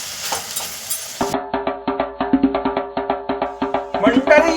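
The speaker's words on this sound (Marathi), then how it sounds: "आता हे आपण मस्तपैकी असं परतून घेऊयात याच्यामध्ये." Slit green chillies are sautéed in a pan for prawn biryani, with a steady sizzle and a rhythmic series of stirring scrapes at close range.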